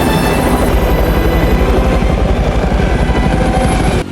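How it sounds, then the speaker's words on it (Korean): Helicopter departing in a disaster film, heard as a loud, continuous rotor thumping and engine roar that stays steady throughout and cuts off sharply at the end, with no voices. "선배와 아이에게 본인의 자리를 양보하고 헬기는 떠납니다."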